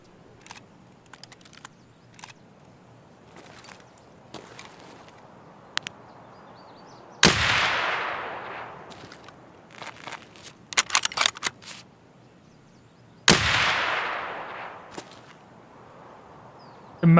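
Two loud rifle shots from a Mosin bolt-action sniper rifle in Escape from Tarkov, each a sharp crack trailing into a long echo, spaced about six seconds apart among quieter clicks and footstep-like taps.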